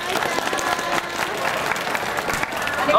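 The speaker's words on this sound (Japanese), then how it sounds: "ぜひ拍手お願いします" A baseball stadium crowd at a Chunichi Dragons game applauds a cheerleader, a broad, continuous wash of clapping and crowd noise with voices mixed in.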